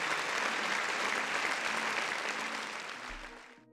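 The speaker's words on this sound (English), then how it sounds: "round of applause for me" Steady applause from a crowd, dense clapping throughout that fades away at the end.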